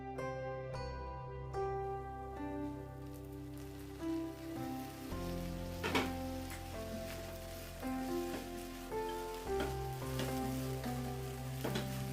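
Sago pearls simmering in a covered pan while being made into sabudana upma, a steady soft sizzle and bubbling hiss under continuous background music, with no talking.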